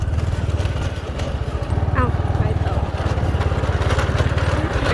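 A motorcycle-type walking tractor engine runs with a steady, rapid low thump, close and loud, while someone talks over it.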